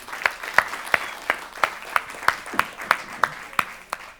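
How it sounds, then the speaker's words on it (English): A conference audience claps in a steady, rhythmic beat, about three sharp claps per second, fairly close and clear with little crowd noise behind. "I feel like another round of applause is in place"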